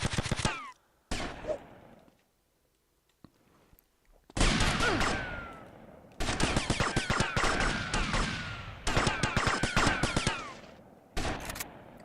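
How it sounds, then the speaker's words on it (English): Bursts of automatic gunfire in Grand Theft Auto Vice City, rapid crackling volleys broken by short silences, with a quiet gap in the middle before heavy sustained firing returns. "Guns go off everywhere."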